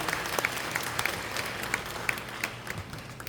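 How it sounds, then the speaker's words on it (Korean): Sparse, quiet clapping from a seminar audience in a Korean church setting, with scattered individual claps rising and falling over a soft, steady room background, heard alone. "다시 한번 감사 박수 부탁드리겠습니다."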